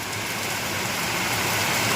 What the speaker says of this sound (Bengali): আর বৃষ্টিটা খুব ভালো লাগে বৃষ্টির মধ্যে বেরোতে